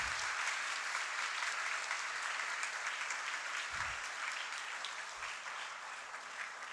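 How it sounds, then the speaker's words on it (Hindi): An audience claps steadily and fairly loudly through a hall at an Independence Day address for independent India, a continuous wash of applause with a few low thumps and no talk over it. "आज़ाद भारत के लिए ताली बजाइए"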